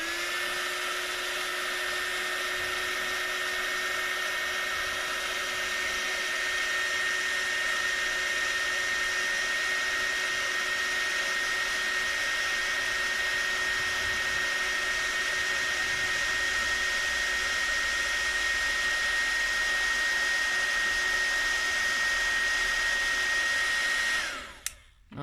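A heat tool blows a steady, high-pitched whirring stream of hot air to melt embossing powder on a handmade card, running continuously and close for over twenty seconds before abruptly cutting off.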